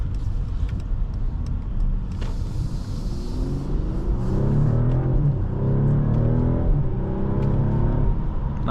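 A 2023 Mercedes-Benz E 450 4MATIC Coupe accelerates on an evening drive, its engine rumble swelling from the cabin with rising revs through a gear change, steady road noise underneath.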